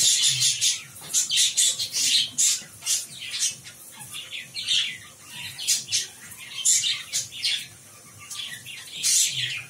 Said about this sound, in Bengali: দেখেছো পাখিগুলো কিরকম ক্যাচর ম্যাচো করছে